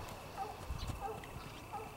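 Horse hooves clopping on the ground while the horse is trained to turn, a few soft muffled steps at close range with faint background noise and no talk.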